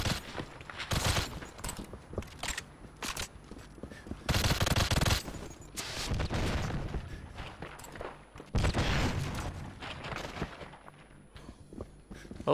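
Rapid gunfire from the GoldenEye video game during a multiplayer match, with repeated loud bursts and rattling volleys that come in clusters, stop briefly, then start again throughout.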